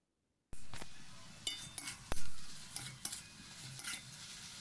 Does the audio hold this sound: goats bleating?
no